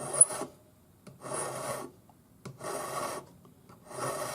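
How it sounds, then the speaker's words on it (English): Metal being filed by hand with a number 2 cut flat hand file, four rasping bursts of strokes separated by short pauses, close and clear with no talking. "I use a number 2 cut flat hand file."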